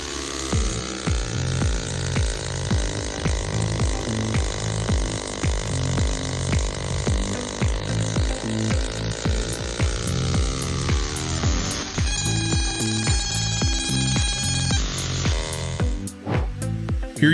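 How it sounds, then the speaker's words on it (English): Steady mechanical buzzing and rhythmic pulsing from a laser engraving machine working on an eco-leather cigarette case, running continuously, with a shift to a higher whining tone near the end. "It's time to listen to how the process of laser engraving on an eco-leather cigarette case takes place."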